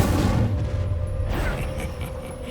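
Incendio fire spell cast in Hogwarts Legacy, a loud roaring whoosh with a rumbling low burst that gradually fades over a couple of seconds, no voices present.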